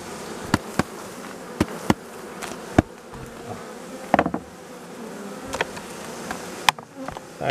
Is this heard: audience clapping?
no